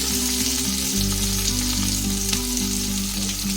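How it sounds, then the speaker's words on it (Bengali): Chopped onion and tomato frying in oil over low gas after a cumin tempering, an even, continuous sizzle with a low steady hum beneath it and no talking. "একটু ভাজা ভাজা মতো করে নেব পেঁয়াজ আর টমেটোটাকে"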